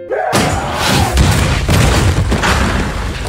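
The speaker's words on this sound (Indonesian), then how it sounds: "Dia tidak tahu pintu itu bisa meledak." A booby-trapped door explodes in a movie scene with a sudden heavy boom, followed by rumbling debris and repeated thuds, loud and close.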